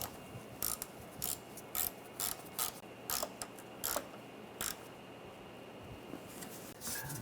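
A screw is tightened down on a BMW 328i 3.0L inline-six water pump with a ratchet, giving a quiet series of short clicking bursts in a rough rhythm, close by with no talking.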